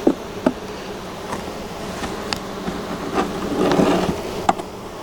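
Honey bees buzz steadily around an open hive in a dense, close hum, with individual bees droning past now and then and a brief swell near the end.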